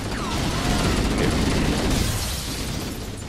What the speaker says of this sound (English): Nice grenade throw.